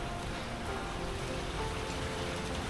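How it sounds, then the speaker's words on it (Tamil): Heavy rain falling at a beach house in Talpona, South Goa, a dense, continuous hiss of drops on surfaces at an even, steady level with no voices. "ஆனால் என்ன ஒரு இதுன்னா மழை பெஞ்சிட்டே இருக்குங்க"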